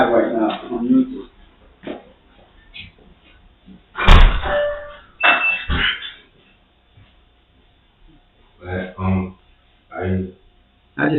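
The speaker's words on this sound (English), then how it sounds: "So just give me a second so I can open the door for them." A door opened at home during a live stream gives a single loud thunk in the middle of the clip, with people talking before and after it.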